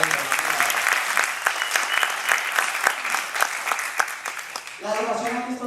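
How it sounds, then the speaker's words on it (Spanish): An audience applauds warmly and continuously, with dense clapping from a large crowd filling the room; near the end a voice begins speaking over the fading applause. "les pido un fuerte aplauso también para ellos"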